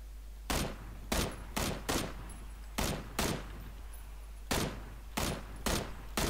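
Scoped rifle shots in a first-person shooter video game, about a dozen sharp loud reports in an irregular series with short gaps, each with a brief ringing tail, no talk.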